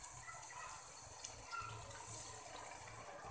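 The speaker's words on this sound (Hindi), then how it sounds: "थोड़ा सा पानी का छींटा लगाएंगे" A splash of water poured into frying biryani masala in a pot, a brief steady hiss and gush heard close and fairly quiet, with no talk.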